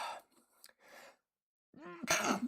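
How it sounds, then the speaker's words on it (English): A single close sneeze brought on by glue fumes while assembling a Warhammer 40K model, preceded by a few soft breathy gasps and a short pause, then the sharp burst. "Oh, excuse me a sec, I'm going to sneeze."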